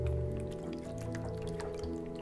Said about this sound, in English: filling up these water bottles, you gotta make sure that you get all of them